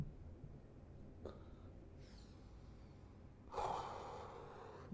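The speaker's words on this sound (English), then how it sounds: "just breathe in and breathe out" A person breathes slowly in and out during a calm breathing exercise, a soft intake followed later by a louder, breathy exhale close to the microphone over a faint low background.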